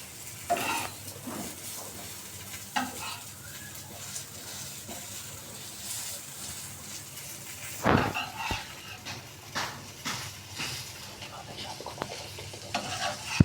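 Eggplant slices fry in a pan and are turned over, a steady hiss of hot oil with scattered clinks and scrapes of a turner, and one sharp clatter partway through, close up and free of talk.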